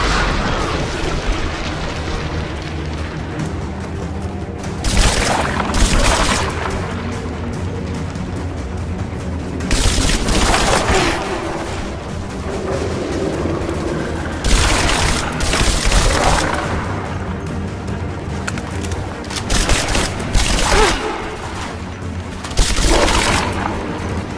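Heavy bursts of gunfire and booming blasts from a battle in Rise of the Tomb Raider, Baba Yaga temple DLC, recurring in loud clusters every few seconds over a constant rumbling game soundscape.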